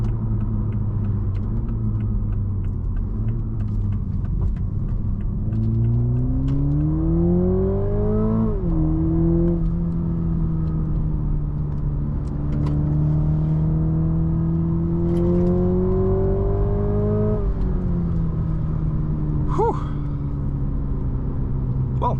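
A Toyota Supra GR with a 2.0-litre four-cylinder engine accelerates hard from inside the cabin, revs climbing through several gears with brief dips at each shift over a loud road rumble.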